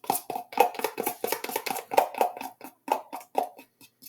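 A mixture for a chocolate peanut butter éclair cake being stirred in a bowl, a quick series of close, soft scraping and tapping strokes in an uneven rhythm, with no talking.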